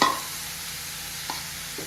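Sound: carrots frying in ghee

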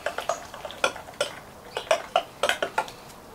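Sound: mixing olive oil marinade in a bowl

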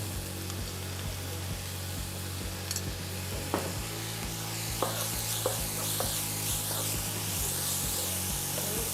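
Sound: stir-frying rice with fish and added chili paste, sizzling

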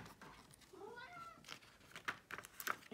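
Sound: cat meowing

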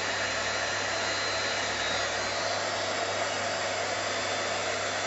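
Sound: embossing heat gun drying glitter powder

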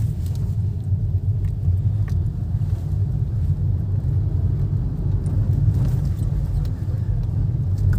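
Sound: Hyundai Nios car turning near a road divider

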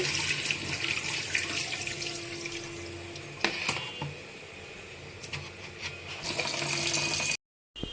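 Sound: washing goat brain under running tap water

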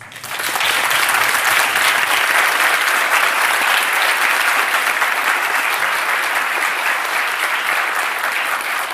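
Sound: audience applause at a conference

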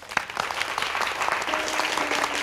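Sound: applause

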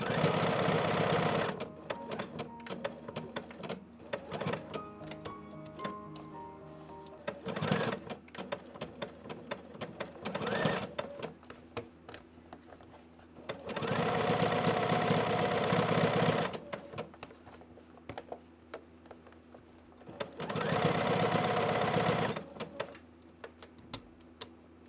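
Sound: sewing machine stitching blouson neckline

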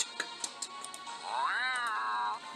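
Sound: cat meowing

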